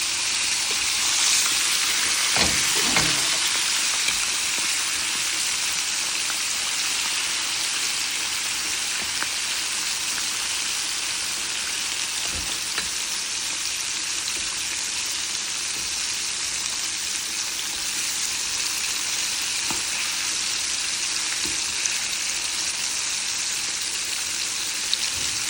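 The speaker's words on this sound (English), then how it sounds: "I know you can hear them chicken drumettes frying" Chicken drumettes frying in a pan give a constant loud, close sizzle and crackle with scattered pops, continuous throughout and with no talking.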